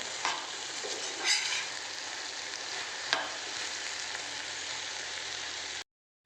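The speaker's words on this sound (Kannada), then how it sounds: "ಸ್ವಲ್ಪ ಹೊತ್ತಾದರೆ ನಮ್ಮ ಭಿಂಡಿ ಫ್ರೈ ರೆಡಿ ಸ್ವಲ್ಪ ಅಲ್ಲಿ ಇಲ್ಲಿ ಆಡಿಸ್ತಾ ಇರಬೇಕು ಕಳಿಸ್ತಾ ಇರಬೇಕು" Okra (bhindi) fry sizzles in a pan while being stirred, a continuous close crackle with a few sharper scrapes and bursts along the way, ending abruptly in silence.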